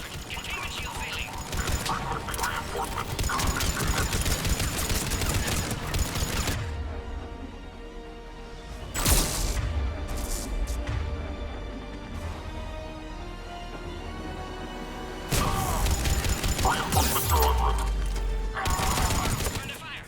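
Battle gunfire from Mass Effect 3 on the planet Sur'Kesh, loud and sustained bursts of weapon fire with crashes, under shouted radio voices calling out an attack and a failing containment shield.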